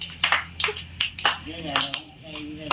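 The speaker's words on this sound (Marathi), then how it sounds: "लाईट आली म्हणून सगळेजण टाळ्या वाजवत आहेत" Scattered, uneven hand claps from a few people at an old-age home ring out repeatedly while voices chatter between them, as the electricity returns after four days.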